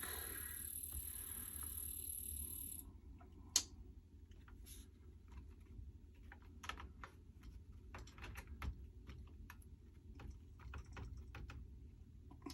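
Keys on a Commodore SX-64 computer keyboard give sparse, faint, irregular clicks against a quiet background, following a short burst of hiss at the start.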